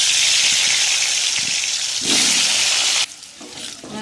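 Potato pieces frying in hot oil in a home kitchen give off a loud, steady, hissing sizzle that runs unbroken for about three seconds before dropping abruptly to a much quieter level.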